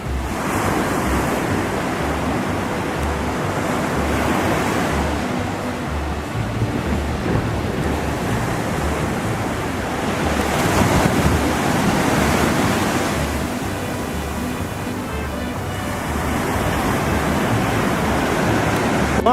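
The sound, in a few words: ocean waves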